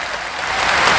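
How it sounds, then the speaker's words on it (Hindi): Audience applause welcoming guests at a religious gathering, a dense wash of clapping from a crowd that swells slightly louder over one second, with no voices over it. "जोरदार ताली बजा करके सब लोग स्वागत करो।"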